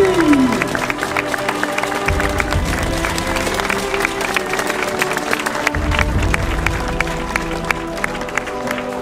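Steady applause and cheering from an audience at a medieval reenactment at the fortress of Châtel-sur-Moselle, dense clapping sustained for several seconds with a voice speaking over it.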